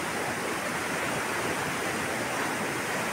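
Floodwater after heavy rain rushing near a rural bridge, a loud, dense, unbroken roar of churning water with no voices.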